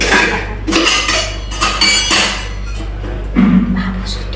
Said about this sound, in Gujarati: આ વાસણ તો ઘસાના બાકી છે